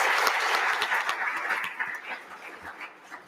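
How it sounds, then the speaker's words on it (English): An audience at a university leadership awards night in Tampa claps for honorees, a thick burst of applause that starts full and gradually thins out, leaving scattered individual claps trailing off. "Please give a big round of applause to all the unsung heroes and their contributions"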